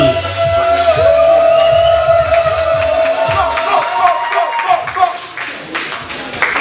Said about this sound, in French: Beaucoup plus d'applaudissements, s'il vous plaît.